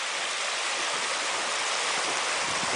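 Water rushes steadily beneath an icy footbridge, a continuous broadband hiss and roar like a stream or small waterfall, fairly close and unbroken, with no voices.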